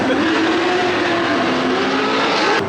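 A Mazda Miata engine held at high revs on a dyno, a loud continuous drone with a steady tonal whine that rises slightly near the end.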